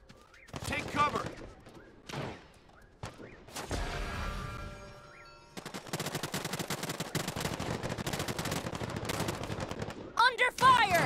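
Gunfire in the Realm Royale PC game, with scattered shots early on, then a sustained burst of rapid automatic fire and a few more loud shots, while a voice calls out over it.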